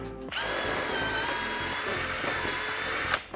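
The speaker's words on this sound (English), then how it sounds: "Maybe I should turn it to the drill setting, not the screw setting." A cordless drill on its drill setting bores through the holes of a plastic compartment organizer, giving one steady, loud, close whine of about three seconds that cuts off abruptly.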